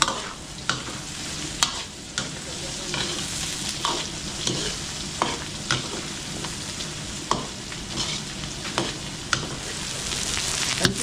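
Garlic and onion sizzle in a hot pan with steady broadband frying noise, punctuated by regular sharp scrapes and clacks of a utensil stirring, close and fairly loud for about eleven seconds.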